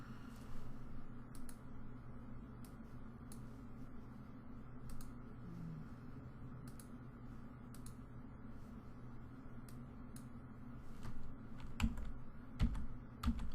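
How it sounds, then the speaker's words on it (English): Computer keyboard arrow keys tapped in short, scattered clicks at a steady, quiet level indoors over a low constant hum, with a denser burst of keystrokes near the end. "I'm using my arrow keys to position this in a place where it looks good."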